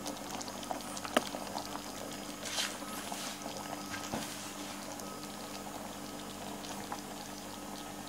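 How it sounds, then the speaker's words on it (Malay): Tuna fish curry simmers in a pot, a quiet continuous bubbling with small pops and occasional sharper ticks, steady and close with no talk. "Biarkan ikan tongkol masak kari kita ni empuk dan mendidih beberapa ketika"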